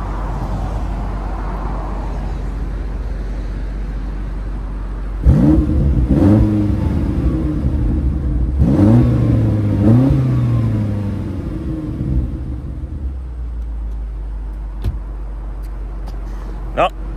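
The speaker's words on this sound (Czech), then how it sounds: "A teď si poslechneme výfuk." A BMW X5M Competition's exhaust is revved while parked, with two pairs of sharp throttle blips rising and falling over a steady idle, loud and close, before settling back to a low rumble.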